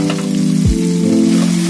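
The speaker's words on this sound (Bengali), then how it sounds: "এটাকে আমি একটু ভালো করে আগে কষিয়ে নিই।" Turmeric and ground spices fry in hot oil in a pan, a steady close sizzle with no voices, briefly disturbed by a single stir partway through.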